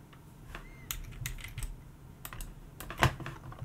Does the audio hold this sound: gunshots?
no